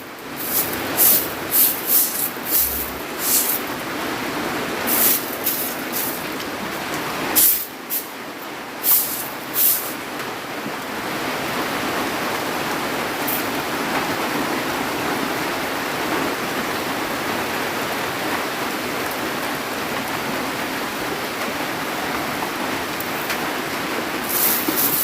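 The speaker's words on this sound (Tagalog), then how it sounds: "Lakas ng ulan." Heavy rain pours down in a dense, loud, continuous roar, with scattered sharper drips and thumps over the first ten seconds before settling into an even downpour with no talking.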